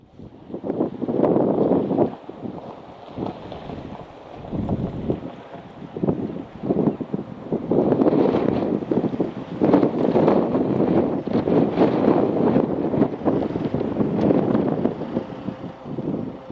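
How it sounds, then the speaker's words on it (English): Strong gusting wind batters the microphone on the coast at Cullen, surging and easing in loud rumbling bursts over a dull roar, with no voices. "Very windy."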